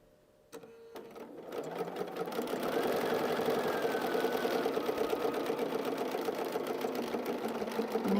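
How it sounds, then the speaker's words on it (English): A sewing machine stitches a quilt seam for a patriotic country-style quilt, running onto a small scrap of binding fabric; a steady, close, continuous whir starts after a brief click and holds evenly to the end. "I just sew onto my little scrap of fabric"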